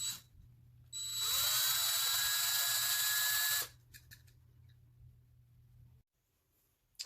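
A small electric drill with a 9/64 bit drills out a Hot Wheels car, one loud steady high whine lasting under three seconds, followed by quieter handling clicks and a low background hum.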